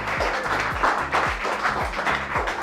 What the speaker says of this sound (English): round of applause to Sarah Furness.